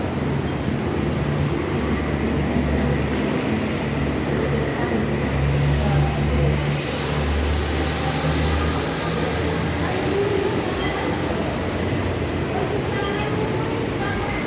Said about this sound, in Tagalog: Ito yung MRT guys.